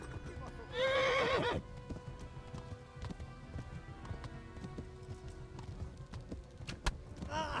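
A horse whinnies loudly and shakily for about a second, followed by hurried hoofbeats and scattered thumps in a noisy Kingdom Come: Deliverance game scene.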